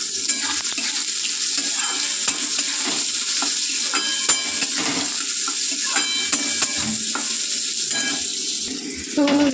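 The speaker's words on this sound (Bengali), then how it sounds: "সয়াবিনগুলো বেশ সুন্দর করে ভাজা হয়ে গেছে" Soybean chunks with salt fry in a pan, a constant loud sizzle broken by scraping stirs and sharp clicks of a spatula against metal.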